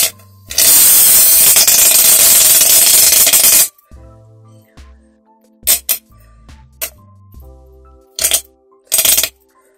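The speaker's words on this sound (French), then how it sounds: "Ensuite, il faut mettre la mousse à raser." Shaving foam sprays from an aerosol can into glue for fluffy slime, a loud sustained hiss lasting about three seconds, followed by several short clicks and bursts of handling noise.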